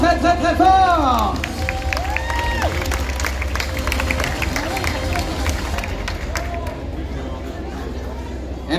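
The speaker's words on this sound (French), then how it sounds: "On peut encore les applaudir très très très fort!" An audience at a cosplay parade during a Japan pop show in Saint-Malo claps and cheers over noisy crowd chatter, with excited voices over the clapping at first and the din easing off a little toward the end.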